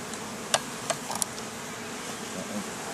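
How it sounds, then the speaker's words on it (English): Honeybees buzz around an open hive during an inspection, a steady outdoor drone with a few sharp nearby clicks and taps above it. "Miss Bee. You don't need to flap your wings at me"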